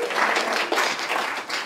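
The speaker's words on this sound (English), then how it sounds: "let's give Gentlemen's Co-op a round of applause for being here" A panel audience gives Gentlemen's Co-op a short burst of applause, a dense, fairly loud wash of many hands clapping together.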